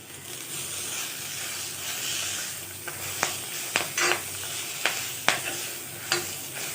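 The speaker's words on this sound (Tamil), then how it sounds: "இது நல்லா எல்லாத்தையும் ஒன்றா வதக்கி விட்டுட்டு கொஞ்சம் நேரம் வதக்கிட்டு" Curry leaves, tamarind and coconut frying in a pan give a steady soft sizzle, broken by several sharp scrapes and knocks of a spoon stirring against the pan.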